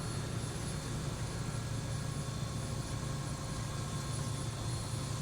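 Bell 407 helicopter engine in X-Plane 12 settled at idle, a steady droning hum with a low rumble that holds even and unbroken throughout, with no voices over it.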